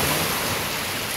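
Strong sea waves make a loud, steady, close roar of surf with a windy hiss, continuous and unbroken with no voices.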